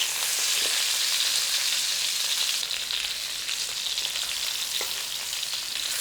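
Sausages browning in a hot frying pan for a sausage and potato hash give off a steady, close, even sizzle that carries on alone without a break.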